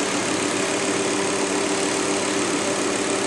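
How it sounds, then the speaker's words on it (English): A Volvo S70 2.4T engine idles steadily with its cooling fan running, a constant whirring hum and broadband rush, continuous and fairly loud throughout with no talking. "Cooling fan just kicked on."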